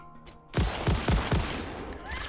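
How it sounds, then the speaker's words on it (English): An assault rifle fires in the Satisfactory video game: four quick, loud, booming shots in a tight burst, each leaving a long echoing tail that fills the rest of the moment. "We have an assault rifle."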